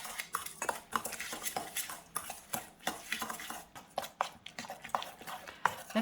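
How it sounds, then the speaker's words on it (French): Pear almond tart batter with softened butter and cream is stirred in a bowl, a utensil clinking and scraping against the sides in quick, irregular strokes close by. "on commence par mélanger toute notre préparation"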